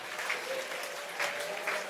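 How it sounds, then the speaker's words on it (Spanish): Applause from a church congregation during a Spanish-language sermon, steady clapping filling the whole stretch with slight swells, fairly close and alone without talk. "Siga aplaudiendo, hermano."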